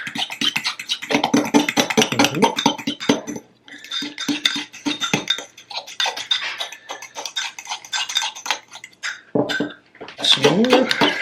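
A utensil stirs butter into food in a bowl, giving steady scraping and clinking against the dish, close and fairly loud, with talking over much of it.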